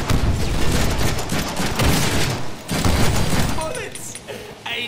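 Rapid gunfire bursts from the Deadpool video game rattle continuously and loud, then thin out near the end, with a voice shouting briefly over the shots.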